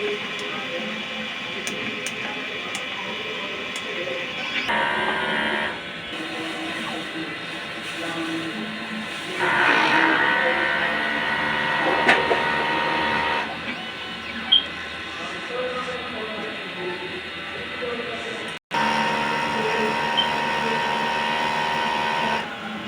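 A printer runs a print-head cleaning cycle, a steady mechanical whir and hum with shifting motor tones and a few clicks, running continuously for the full stretch with brief changes in pitch and level.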